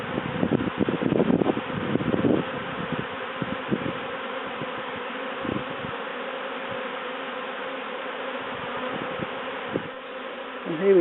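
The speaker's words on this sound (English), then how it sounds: "when they're in a swarm like this, their tummies are all full of honey" A swarm of honey bees leaving a top bar hive fills the air with a dense, steady buzzing hum, louder and busier at first with brief rustling bursts, then settling into a continuous close drone.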